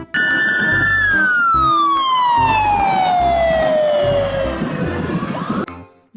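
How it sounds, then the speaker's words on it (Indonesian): A toy ambulance siren wails loudly and close, a single electronic tone sweeping slowly downward over several seconds against a low rhythmic hum before cutting off near the end. "Wih, apa ini? Wow, ada mobil ambulan."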